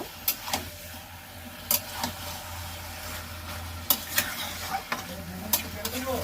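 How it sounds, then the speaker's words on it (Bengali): Chicken and spices being stirred in a sizzling frying pan: a steady oily hiss runs under repeated sharp scrapes and knocks of the spoon against the pan, arriving every second or so, with no talking. "চিকেনের সাথে মশলাটা ভালো করে করে নেব, মিশিয়ে নেব"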